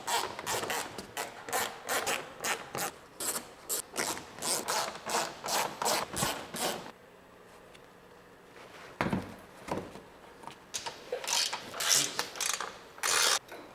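Close, steady clicking of a ratchet backing out T25 bolts from the underbody panel of a 2024 VW Atlas, with a pause in the middle and then further bursts, and no speech.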